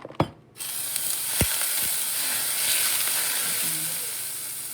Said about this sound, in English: So now I'm just gonna drop a little butter